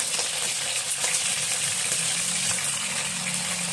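Catfish fries in hot oil with a dense, steady sizzle and crackle, close and constant throughout with no talk.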